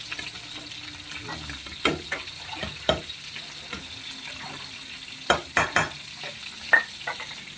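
Cabbage and chili stir-frying in a pan: a steady, close sizzle broken by sharp clanks and scrapes of a utensil tossing the vegetables, with no talking.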